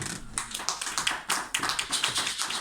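A church congregation clapping in praise of Jesus, rhythmic and fairly close, the sharp claps repeating steadily for a few seconds with no talk over them.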